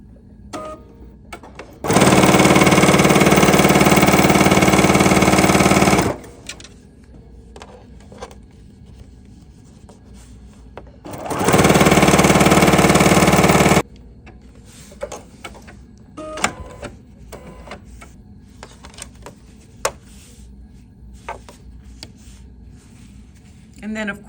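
A Bernina sewing machine fitted with a double cording foot stitches in the ditch to form double welting, running loudly in two steady bursts of several seconds each, with quieter handling noises and light talk in between.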